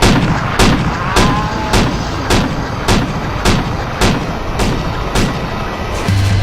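Gunfire in the video game GTA Zombie Andreas beta 3, played in first-person slow motion, with about ten loud, evenly spaced heavy booming shots in a steady rhythm, no talking.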